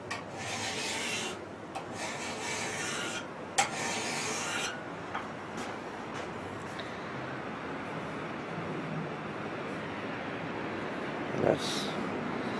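A hand file rasps in long, steady strokes along the blade of a Fox Ridge Arms Flint and Steel custom knife making kit, loud and close, with a few sharp clicks between passes.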